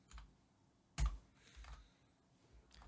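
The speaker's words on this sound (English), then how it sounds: "And you just type your message." Keystrokes on a computer keyboard as a message is typed, a few soft scattered clicks with one sharper tap near the middle, alone in a quiet room.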